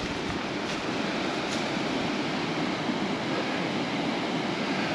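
The River Prosen, a Scottish river, flowing in a continuous loud rushing wash that stays steady throughout, heard close by with no voices.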